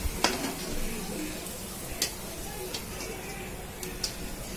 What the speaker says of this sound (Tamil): ரெண்டாவது ஒன்று பொரிச்சு காட்டுறேன்